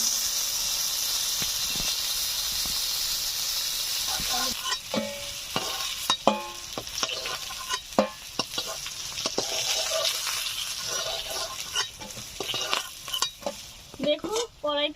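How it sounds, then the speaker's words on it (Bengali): Pieces of boal fish fried until reddish are lifted out of hot oil: a steady close sizzle with scraping stirs and clattering knocks from a utensil against the pan. "দেখুন এই মাছগুলো আমি লালচে করে ভেজে নিয়েছি, এখন তুলে নিচ্ছি।"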